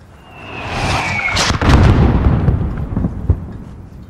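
Mortar fire in the video game Modern Warfare: an incoming whistle descends into a loud, near explosive boom with rumbling debris, then a second, smaller thud.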